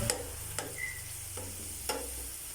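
A coated vegetable snack deep frying in oil, a soft continuous sizzle broken by a few sharp clicks and taps of a utensil against the pan, close and fairly quiet.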